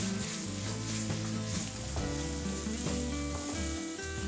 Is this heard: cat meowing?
no